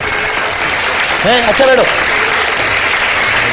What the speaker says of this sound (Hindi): मुबारकबाद दे दें तालियों की सूरत में इनको।